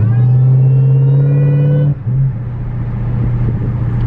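A rebuilt 2016 Dodge Hellcat from a salvage auction revs loud and close on a test drive, a strong steady engine drone that drops sharply at two seconds into a lower, rougher rumble.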